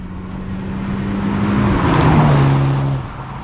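A BMW Z4 sDrive20i G29 roadster engine hums while driving, a smooth, fairly quiet drone that swells slightly with rising pitch and then eases off, heard steadily over road and wind noise.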